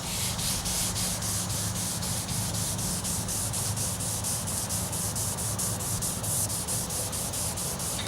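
Steady, continuous sanding rubbed across a damaged car paint surface during repair, a close, even abrasive hiss with rapid regular strokes and no pauses.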